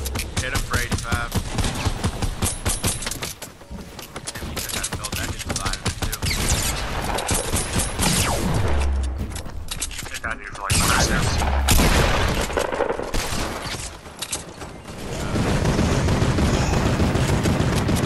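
Dense, continuous Fortnite gunfire, with rapid volleys and booming shots packed close together over a steady game mix, while voices talk over the action throughout.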